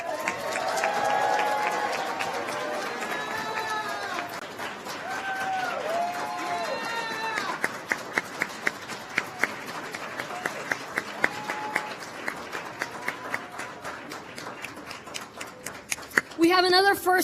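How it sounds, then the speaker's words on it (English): Audience applause for a congresswoman at a moderated political event, a sustained crowd of clapping hands with voices mixed in and a brief louder burst at the end. "So please give a round of applause to our Congresswoman"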